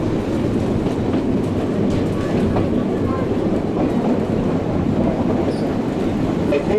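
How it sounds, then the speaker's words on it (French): Locomotive 403 of the Train de l'Ardèche, built by SLM Winterthur in 1903, rolls past with its carriages in a continuous loud rumble and faint wheel clatter. "La locomotive numéro 403 a été construite en Suisse en 1903 par les usines SLM de Winterthur en Suisse allemande"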